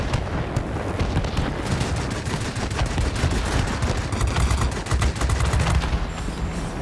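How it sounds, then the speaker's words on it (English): Anti-aircraft flak fire in the World of Warplanes game, a loud, dense barrage of overlapping bursts and crackling blasts that continues without a break, with no voices. "The flak is everywhere!"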